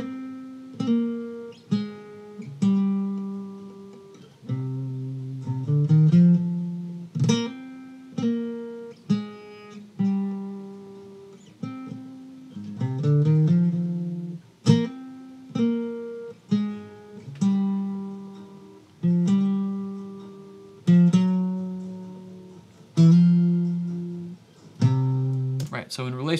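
Soloed electric lead guitar plays a melodic line of picked, sustained notes with recurring swells and decays, loud and close, with no other instruments present.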